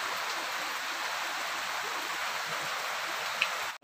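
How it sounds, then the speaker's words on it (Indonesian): Steady rain falls around a simple bamboo shelter on a porang plantation, a soft continuous hiss of drops that stays even and close, cutting off abruptly at the end. "Pastinya masih hujan teman-teman, jadi masih berteduh di saung yang sederhana ini"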